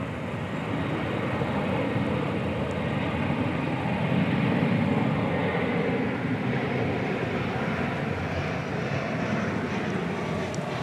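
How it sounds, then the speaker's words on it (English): An Embraer 175 jet airliner at DFW Airport sends a broad, steady engine roar that swells slightly in the middle and rolls on without a break, moderately loud and nearby. "It's an Embraer 175."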